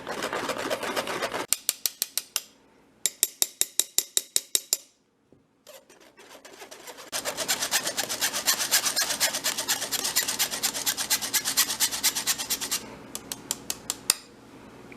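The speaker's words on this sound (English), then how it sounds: "What you can do to speed that up, just grab a spoon and then you can start stirring it." A spoon scrapes cocoa powder through a metal sieve while brownies are being made, producing rapid rhythmic rasping strokes in short bursts with brief pauses, then a long continuous scraping stretch, close and fairly loud.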